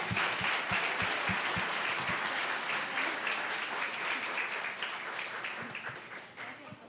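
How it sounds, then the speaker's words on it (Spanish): A church congregation applauds in a sustained, dense wash, moderately loud, with some low thumps early on. The clapping gradually tapers near the end. "Y tan amable el aplauso."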